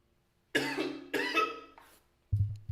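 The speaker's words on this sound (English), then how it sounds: "This is not a COVID 19 cough." Two harsh, close coughs in quick succession, followed by a brief low throat sound; loud and alone.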